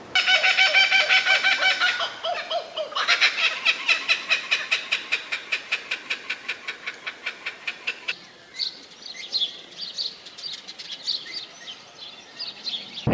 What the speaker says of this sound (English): That's a kookaburra right there in the tree.